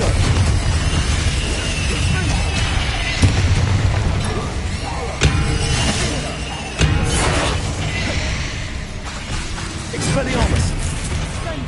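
Repeated fire-blast spell explosions from a Hogwarts wizard video game, dense booming bursts and crashes layered over continuous game sound with a voice speaking throughout.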